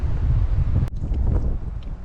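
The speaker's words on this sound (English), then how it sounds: "windy up here." Wind on a hiking trail in Henry W. Coe State Park rushing and buffeting the microphone with a low rumble, briefly broken by a sharp click before the gusting continues.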